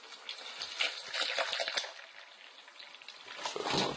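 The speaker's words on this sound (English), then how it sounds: "Now we can put regular water up in here or filtered water, but I use milk" Milk poured into a plastic shaker bottle for a protein shake at home, a close, steady liquid gush with small splashing bursts, running alone for several seconds.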